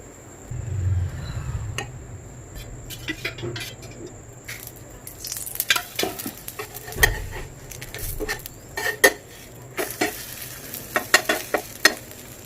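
A Mughlai paratha filled with egg fries in a pan, with a continuous soft sizzle broken by repeated scraping and tapping of a spatula pressing it down, close and fairly clear.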